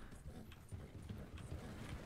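Horse-drawn wagon in Red Dead Redemption 2 with hooves clopping in a quiet, steady rhythm, faint and a little distant under soft ambient game noise, with no talking.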